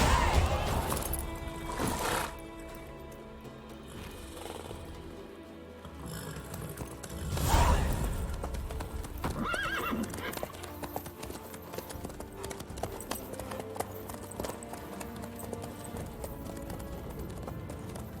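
Horse hooves clip-clopping steadily in The Witcher 3 video game, a continuous rhythmic trot heard close, with occasional louder thumps and brief voices talking over it.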